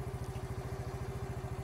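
A motorcycle or moped engine idles close by with a fast, even low-pitched putter and a steady hum above it, heard alone for under two seconds.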